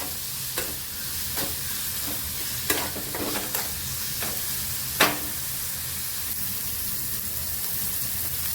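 Tomatoes being sautéed in a pan until soft: a low, steady sizzle broken by several sharp scraping stirs of a spoon against the pan, close and clear with no talking.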